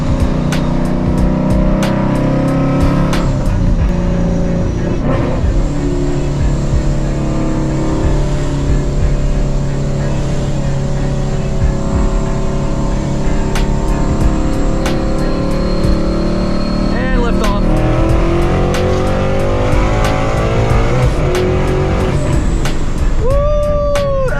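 A supercharged Paxton S197 Ford Mustang makes repeated hard pulls, with a loud, close engine roar and supercharger whine rising in pitch through the gears, broken by shifts and a sharp whistle near the end.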